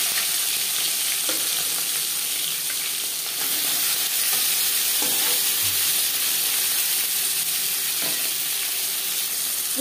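Marinated koi fish fries in mustard oil with a loud, steady sizzle and hiss that continues without a break, heard close up with occasional faint stirring.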